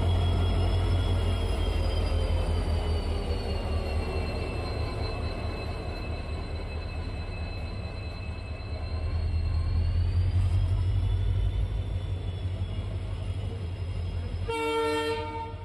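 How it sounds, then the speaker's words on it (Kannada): The Tirupati train pulls in at platform 2 of an Indian station with a loud, continuous rumble and wheel noise under a long steady horn-like whine, ending in a short burst of clattering. "ತಿರುಪತಿ ಟ್ರೈನ್ ಬರೋದು ಪ್ಲ್ಯಾಟ್ಫಾರಮ್ ನಂಬರ್ 2ಗೆ"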